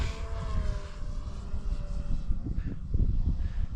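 Extreme Flight 60-inch Laser RC plane flying knife edge, a steady buzzing electric-propeller drone heard at a moderate distance with rough wind noise, holding fairly even in level before a slight rise near the end.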